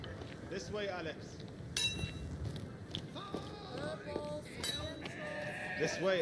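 Several sheep in a video game bleat in short, overlapping calls over a busy background of footsteps and clinks, with voices talking throughout.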